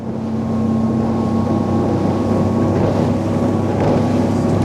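Windy 29 Huracan motorboat running at speed through another boat's wash at sea, a loud steady engine drone mixed with rushing water and wind buffeting the microphone, no talking.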